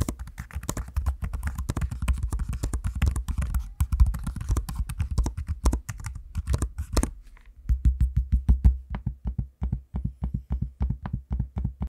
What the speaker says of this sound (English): I'm using both the keyboard and the amazing trackpad so you can hear what it sounds like.